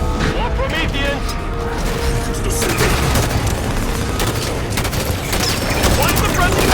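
Gunfire and explosions from Halo 5 combat against Prometheans near a docking station: dense, continuous booming and rapid shots fill the whole stretch, loud and close, with voices talking over the battle.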